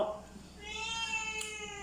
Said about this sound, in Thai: อุ้ยแมวก็ร้อง